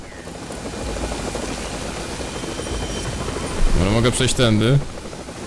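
A helicopter in the stealth video game Splinter Cell: Double Agent keeps up a steady rotor drone through the whole stretch while someone talks over it near the end.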